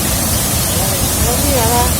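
A waterfall roars with a steady, dense rush of falling water, loud and unbroken throughout. A voice can be faintly heard talking underneath the noise.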